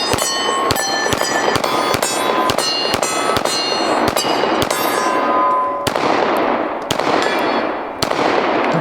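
Rapid close-range pistol shots from a Springfield Hellcat Pro, about a dozen sharp cracks in a quick, slightly uneven rhythm. Each report rings out over outdoor range ambience.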